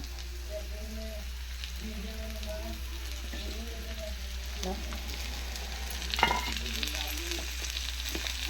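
Tomatoes going into a pan of frying curry on low heat, a soft continuous sizzle with gentle stirring scrapes and a brief clatter near the end, steady and moderately quiet.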